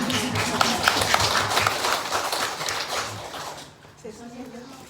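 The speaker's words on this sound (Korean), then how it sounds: "박수 치시네요" Dense, steady hand clapping from a seated group at a senior church gathering in Busan, loud and continuous for about three seconds before fading out, followed by a short stretch of talking.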